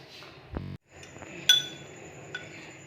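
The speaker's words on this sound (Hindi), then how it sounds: "तो पहले हम इसको कर लेते हैं मिक्स" Ketchup, soy sauce and cornflour are stirred into water, with a few faint, sparse clinks and taps of a spoon against the bowl in a quiet kitchen.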